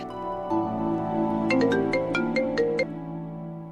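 A mobile phone ringtone plays alone while a call to a father goes through, a melodic electronic tune of rising and falling tones, close and steady for a few seconds.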